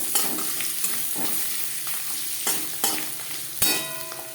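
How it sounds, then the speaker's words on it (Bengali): Grated coconut frying in a pan for a mixed vegetable dish, a soft continuous sizzle with several sharp stirring scrapes and clacks, close and fairly quiet, no talk. "নারকেল ভেজে নেব।"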